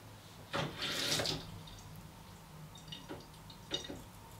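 A tap splashes into soapy water while a vintage Sheffield straight razor is washed: a short burst of running water, then quieter trickles and a few light splashes and drips.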